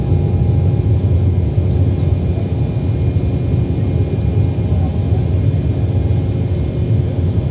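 Steady, loud cabin noise inside an airliner in flight to Nur-Sultan, a dense low roar and rumble of engines and airflow that holds constant throughout.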